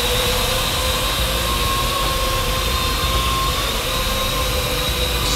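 Parrot AR Drone quadcopter flying with a steady, continuous whine of its four small electric rotors, constant in level throughout and close by, with no speech.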